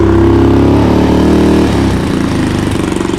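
The single-cylinder engine of a Boom Vader Grom clone motorbike runs on its first start with the choke on, loud and close. It gives a rapid throbbing idle that drops into a slightly lower, uneven chug partway through.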